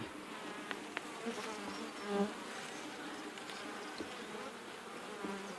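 Steady, dense buzzing of many honey bees during an open hive inspection, a continuous drone at moderate level with occasional louder passes of individual bees near the microphone, no talking.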